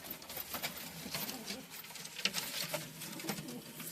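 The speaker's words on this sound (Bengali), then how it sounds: "এখানে আমার দুটো পায়রা মারপিট লেগে গেছে" Two pigeons scuffle on a rooftop, with soft coos mixed into fluttering and pattering wing and foot noise, close by and fairly quiet, and no one speaking.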